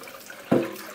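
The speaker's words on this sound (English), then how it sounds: "put it under the hot tap, give it a good wash out" Hot tap water gushes onto a Ninja air fryer tray in a sink, a sudden close splash that rises sharply and then settles into a softer running rinse.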